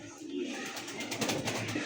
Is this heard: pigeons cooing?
yes